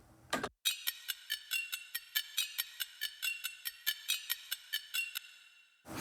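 Rhythmic percussion hits, steady and evenly spaced, each with a long wet reverb tail washing between them, bright and prominent.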